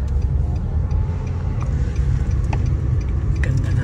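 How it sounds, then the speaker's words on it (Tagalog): A car engine runs steadily and close by, with a continuous low rumble and a few small ticks and rattles over it. "Ganda na sasakyan."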